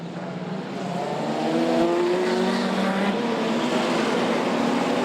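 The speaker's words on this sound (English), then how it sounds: "They're up and running. We're up the back straight we go." Open sedan race cars getting under way at Archerfield Speedway for a King of the Ring and Novelty Night meeting, a dense, steady engine roar building over the first two seconds and holding loud, with a mass of overlapping motor tones.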